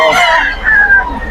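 A Talisain gamefowl rooster crows at a busy pet market, one short loud crow heard close, with a faint voice in the background.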